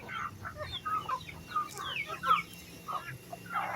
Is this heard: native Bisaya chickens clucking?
yes